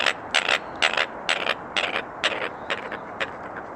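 An American coot gives a series of low, gravelly quacks, about eight rough calls in an uneven rhythm over faint outdoor background noise.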